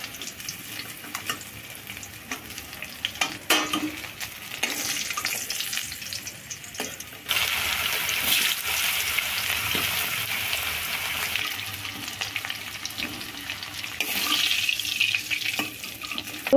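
Black cumin, dried red chillies, bay leaf and two green chillies dropped into hot oil, a steady hissing sizzle that flares louder midway and keeps crackling, close and unaccompanied by speech.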